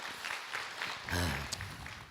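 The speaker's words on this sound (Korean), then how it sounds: "박수로 맞으세요." A modest audience at a Buddhist monk's question-and-answer session claps faintly to welcome a questioner, with scattered, distinct claps and a brief spoken voice in the middle.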